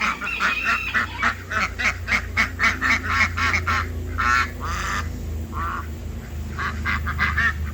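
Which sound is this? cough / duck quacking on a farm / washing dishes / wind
duck quacking on a farm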